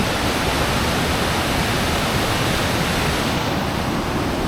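Ritson Force waterfall in the Lake District pours in a dense, unbroken roar of rushing water, loud and close, with no variation and no voices.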